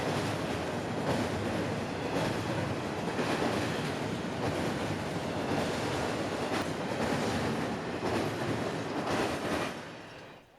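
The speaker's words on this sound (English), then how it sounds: "it's still a great place to watch Amtrak's, locals, and trains like this Q046 slam the diamond" CSX freight train Q046 rolls across a rail diamond at Yeoman and Uceda Yard in Tampa Bay, a loud, sustained roar with rhythmic wheel pounding throughout, fading at the very end.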